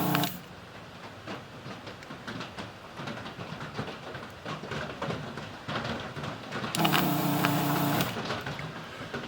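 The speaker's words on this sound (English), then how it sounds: "Put it down, heat it up, and you can hear the desolderer" A desoldering tool pulls solder off a pinball tone circuit board, giving a steady mechanical whir and rattle, then a louder, harsh sucking burst near the end, with no talking.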